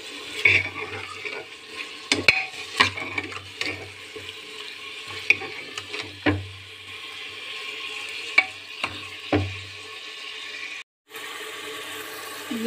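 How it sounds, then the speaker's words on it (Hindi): Meat (gosht) and raw spices are fried together in a pan, giving a steady close sizzle broken by frequent scraping and clanking stirs. Near the end the sound cuts briefly to silence, and no one speaks. "ये सब मसाले भून रहे हैं, और ये गोश्त भी भून गया है"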